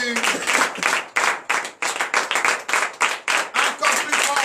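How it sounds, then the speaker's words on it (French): A congregation at a Thursday church teaching session claps in strong rhythmic unison, sharp regular bursts about three per second, loud and close, with cheering voices mixed in. "je vous demande d'applaudir encore très fort"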